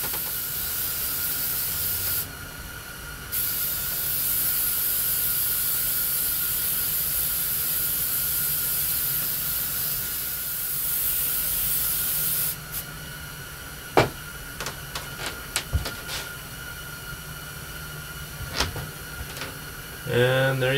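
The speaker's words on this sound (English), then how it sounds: "And now I'm going to spray the other side." An aerosol can sprays Plastidip rubber coating onto a shield in long, steady hissing bursts with brief pauses, followed by shorter spurts and handling clicks near the end.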